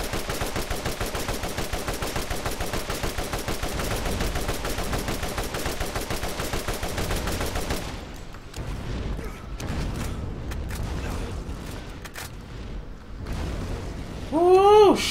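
Rapid automatic gunfire from the video game Borderlands rattles loudly and continuously for several seconds, then breaks into scattered shots, bursts and explosive booms, with a rising whine near the end.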